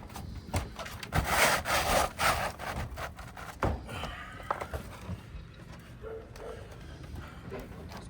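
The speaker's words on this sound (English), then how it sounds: "I gotta drive the nails perpendicular to the roof deck" Nails being hammered into roof shingles, a series of irregular sharp knocks and taps with scraping and shuffling between them, close by, with occasional quiet talk.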